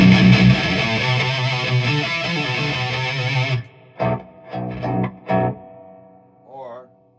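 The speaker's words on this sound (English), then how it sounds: "I can go with my distortion on my rig." Loud, sustained electric guitar chords through a distortion pedal ring out, then break into short choppy stabs with pauses between them.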